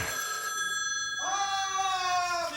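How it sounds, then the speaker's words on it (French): A small telephone rings in a house with steady electronic-bell tones, a higher pattern giving way to a lower, sustained ring partway through, loud and alone with no talk over it. "Personne ne répondra donc à ce petit téléphone."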